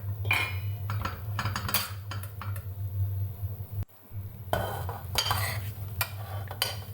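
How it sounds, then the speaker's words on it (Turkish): Steamed noodles tossed with oil and walnuts, a utensil scraping and clinking against the pot in close, uneven strokes, pausing briefly midway before the stirring carries on. "Yağımızı ve cevizimizi koyduktan sonra güzelce karıştırıyoruz."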